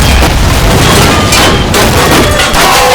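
A loud, dense barrage of booms and gunfire during an armored-vehicle battle in a toy-war video game, as an APC is blown up amid continuous rumbling blasts with no clear pause.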